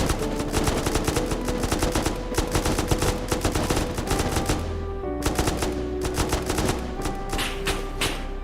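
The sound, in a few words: gunfire sound effect in audio drama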